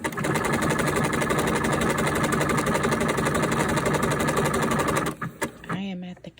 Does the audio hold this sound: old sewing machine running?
yes